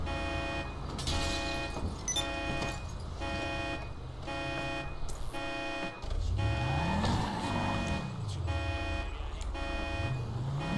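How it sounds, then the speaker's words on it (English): Vehicle reversing beeps in the video game GTA V, a steady repeating electronic beep pulsing at a regular rhythm over engine rumble and game music, moderately loud and continuous throughout. "Beep, beep, beep."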